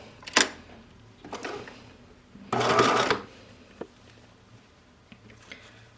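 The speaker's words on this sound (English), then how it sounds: "I'm just going to sew it down right in that crease line." Domestic sewing machine stitching down a coat's binding along a crease line, a brief whir of stitching between a few close mechanical clicks and clunks, in a quiet room.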